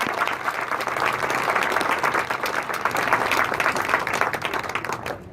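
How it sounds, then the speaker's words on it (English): Sustained applause from a sizable crowd, steady dense clapping throughout with no voices standing out. "So let's give them a big round of applause."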